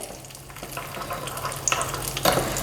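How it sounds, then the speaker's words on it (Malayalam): Cashew nuts and raisins frying in hot oil or ghee in a pan, a steady close sizzle with crackling pops and occasional stirring scrapes, no voices. "അണ്ടിപ്പരിപ്പ് ചെറുതായിട്ടൊന്ന് മൂത്ത് വരുമ്പം നമുക്ക് മുന്തിരിങ്ങ ഇട്ട് കൊടുക്കാം"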